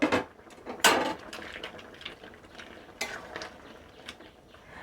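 A utensil stirring shukto, a Bengali mixed-vegetable curry with fried bori and bitter gourd, in a pan: scraping and clinking against metal in irregular strokes, close by, with no talking.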